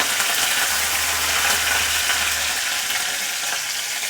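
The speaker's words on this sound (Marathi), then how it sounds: "आता लसूण घालूया कढीपत्ता" Garlic and curry leaves frying in a pan, a loud, even, continuous sizzle heard up close with no talking.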